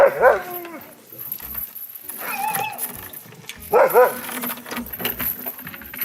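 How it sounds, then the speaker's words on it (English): Friendly dogs at a north Norway kennel give short barks and yelps in bursts, moderately close, amid outdoor background noise. "we got to hang out with the dogs a little bit"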